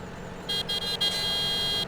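A vehicle horn in Farming Simulator 17 sounds in a few short toots followed by one longer sustained honk, loud and close over a low engine hum.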